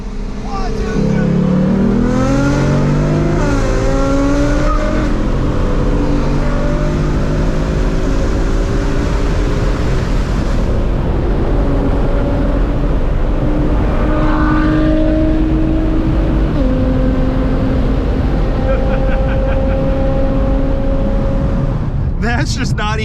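A 2018 Mustang GT launches hard in a dig race, engine climbing through several gear changes in long rising sweeps, loud and constant from a close in-car position, with voices briefly heard.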